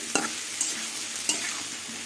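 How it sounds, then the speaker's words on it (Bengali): Potatoes and onion fry with turmeric in a pan, a soft steady sizzle with a few brief stirring scrapes, fairly quiet and close. "আবার কিছুক্ষণ হলুদ দিয়ে কিছুক্ষণ আলুটা ভালো করে আবার ভেজে নেব"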